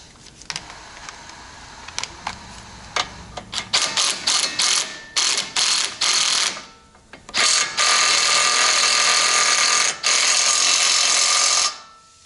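A ratchet wrench turning a 19 mm tie rod end nut, with a Torx bit holding the shaft, clicks nearby in short bursts that build into long, loud runs of rapid ratcheting with brief pauses between, and no one talking.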